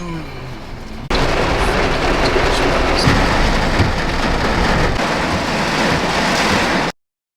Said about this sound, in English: It is torrential raining.